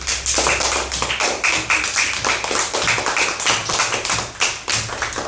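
Applause for primary school children at a school welcome ceremony, a steady dense patter of clapping hands sustained throughout, fairly loud and close, with no talk over it.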